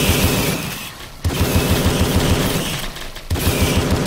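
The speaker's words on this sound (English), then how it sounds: "These toxic shots they're shooting" Enemies in the Tesla vs Lovecraft arena shooter fire toxic shots in a loud, dense, rapid barrage of gunfire-like bursts that run continuously, with two short dips, and no talk.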